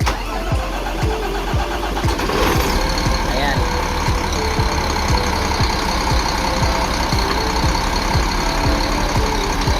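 A Shacman H3000 430 hp diesel truck engine cranks and catches after a starting fault, then idles with a loud, steady clatter close by; voices talk faintly underneath.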